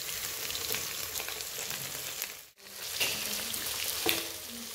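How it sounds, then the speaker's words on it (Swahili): Onion, paprika, garlic and ginger sauté in a pan for prawn pilau, a close, continuous frying sizzle with stirring scrapes that cuts out briefly midway and then resumes. "Sauteed onion, paprika, garlic and ginger."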